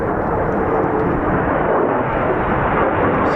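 F-15 or F-35 fighter jets at RAF Lakenheath roar past as a loud, steady, broadband jet rush that fills the whole stretch without letup.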